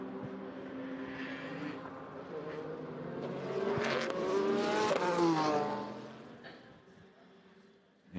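A race car passes on track during an endurance race, its engine note rising as it approaches, peaking loud with a Doppler sweep as it goes by, then fading into the distance.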